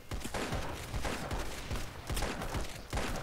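Heavy rifle fire in Roblox Arsenal crackles in dense, overlapping bursts, loud and close, with sharp shots repeating through a busy game mix.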